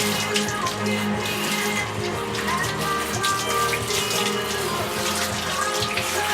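Water from a gentle shower hose rinsing soap off a Bichon Frise during a home bath, a steady close spray and trickle running throughout with soft background tones.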